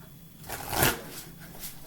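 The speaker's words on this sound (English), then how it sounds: "Now shuffling off a little, again, the life purpose cards." A deck of life purpose cards being shuffled close by, a soft riffling burst that swells in the middle and tapers off, with no talking.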